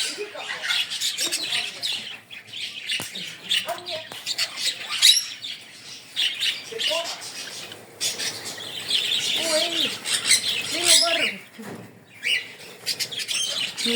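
Small birds chirp and squawk in repeated bursts at a bird zoo in Tallinn, close and moderately loud, with people talking intermittently beneath the calls.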